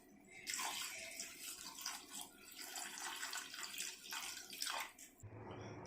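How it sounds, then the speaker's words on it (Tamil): Half a glass of water poured over chicken pieces in a pressure cooker, a steady splashing stream that runs for about five seconds before cutting off, alone with no talk. "இந்த சிக்கன் வேகிறதுக்கு ஒரு 1/2 கிளாஸ் தண்ணி ஊற்றிக்கலாம்."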